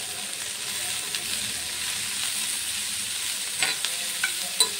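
Roti noodles are stirred and fried in a pan, giving a soft, steady sizzle with a few sharp scraping and clinking strokes near the end.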